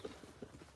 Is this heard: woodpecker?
no